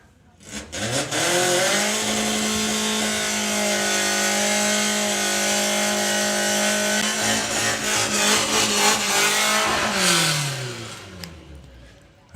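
An Audi TT drag racing in the VW Sportsman class roars loud and close, engine revving hard and holding a steady high-rpm drone for several seconds before dropping off, with faint voices underneath.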